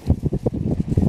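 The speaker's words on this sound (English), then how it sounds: "Look at these gusts coming in here." Gusty wind on a lake shore buffets the microphone in low, rumbling surges, close and fairly loud with an uneven rhythm, and no voices.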